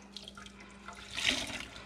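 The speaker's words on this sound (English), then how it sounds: "We just kind of swish the yarn around a little bit." Hand-spun wool yarn, already washed, swished and squeezed in a basin of water, giving a brief soft sloshing that swells into a louder splash near the end, with no talk.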